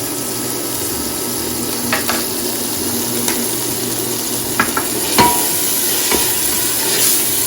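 Ginger, garlic, turmeric and salt frying lightly in a pot, giving a steady soft sizzle with a few brief spoon scrapes and clinks against the metal, close and alone without talk.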